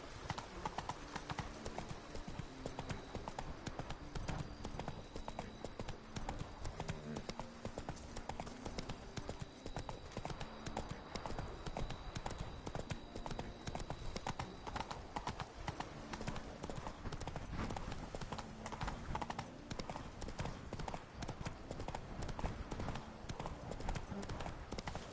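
Roach the horse galloping in The Witcher 3: Wild Hunt, a fast continuous clip-clop of hooves throughout, up close and steady, with a voice urging the horse on.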